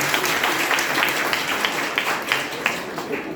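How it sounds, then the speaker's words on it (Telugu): A congregation claps at a church prayer meeting, a steady dense wash of applause lasting the whole stretch with a few louder individual claps standing out. "మీరు నమ్మితే చప్పట్లు కొట్టండి"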